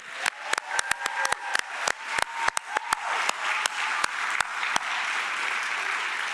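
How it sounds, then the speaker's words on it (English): Audience applause at the closing of the INHSU 2022 conference, with sharp individual claps standing out over a steady wash of hands; the clapping is loud and sustained throughout, the sharp claps thinning toward the end. "And a massive applause for Amy Sargent and Leah Manicom."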